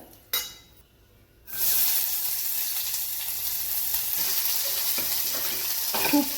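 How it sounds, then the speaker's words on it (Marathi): Loud, steady sizzling of onion and curry leaves frying in hot oil begins after a brief quiet start and continues close by, with a few light clinks near the end. "आता कढीपत्ता कांदा सगळं व्यवस्थित भाजून घ्यायचं"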